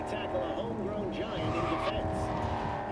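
A car drifts in Cyberpunk 2077 with a sustained engine drone and short bursts of tire squeal, all running under continuous talk.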